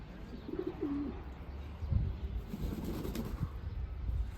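A rain-soaked pigeon just back from a flight gives a couple of low, throaty coos early on, then rustles faintly against quiet outdoor background noise.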